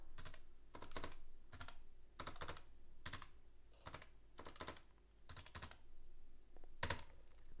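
A password typed on a computer keyboard: quick bursts of soft key clicks in uneven clusters with short pauses, close and quiet in an otherwise silent room.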